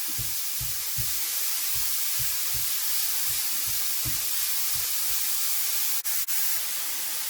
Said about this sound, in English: See, that sausage is cooking up real nicely.